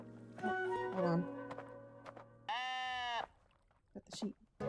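Sheep in the Tiny Glade video game bleat several times in close succession, clear, nasal, wavering calls, one long and loud, over quiet background.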